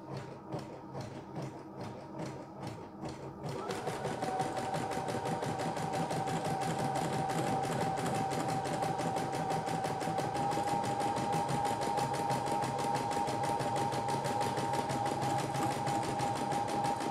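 A CNY E960 multifunction embroidery machine stitches with its thread snagging, first in a few quieter, broken bursts, then settling into a loud, steady mechanical whir with a fast, even needle rhythm.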